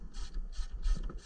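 Wrench working an oil filter on a Yamaha F225–F300 4.2L outboard: several short scraping, rubbing strokes with faint ratcheting clicks, close and quiet.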